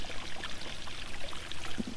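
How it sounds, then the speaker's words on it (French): Soft, steady lapping and trickling of water in a garden pond, faint and continuous for two seconds with no voices. "C'est agréable quand il fait chaud d'entendre le clapotis de l'eau"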